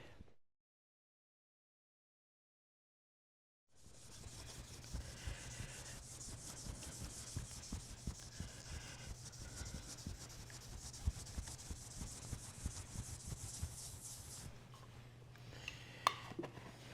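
Wax being rubbed onto hand-planed hardwood, a steady close scraping and rubbing that starts after a few seconds of silence and runs evenly for about ten seconds before easing off.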